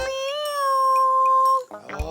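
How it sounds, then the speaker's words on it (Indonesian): A cat gives one long, clear, close meow that falls off at the end, with a brief voice or rustle just after. "Meong. Oh, kucing."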